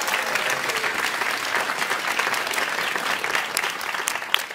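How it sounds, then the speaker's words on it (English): Steady applause from an audience at an astronomy cake competition, dense clapping holding at an even level throughout with no pauses. "Let's give them a round of applause"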